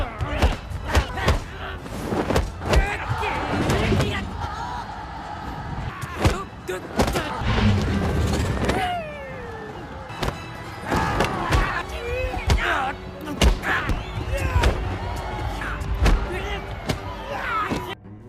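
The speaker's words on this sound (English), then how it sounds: "He's knocked down hard, slammed into the ground, punched repeatedly, just ragdolled around the brutal arena." Punches and body slams land in a brutal arena fight scene: heavy thuds and sharp impact hits come in clusters, some close and hard, mixed with a voice and background sounds.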